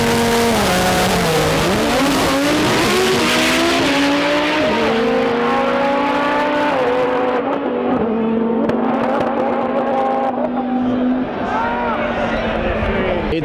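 An Audi RS3 and a Lamborghini Huracan drag race at TX2K21, with loud, continuous engine roar as revs climb and drop through gear changes. An announcer's voice runs over the cars.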